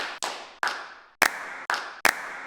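Layered human hand claps used as a sample in a dance music track, five sharp slaps spaced about half a second apart, each with a short roomy tail, close and clear with no talk.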